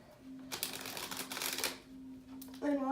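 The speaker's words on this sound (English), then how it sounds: "I'm just going to get right into shuffling the cards" Tarot cards are shuffled in bursts of crisp riffling and flapping, close and fairly quiet, over a faint steady hum, and a voice starts speaking at the end.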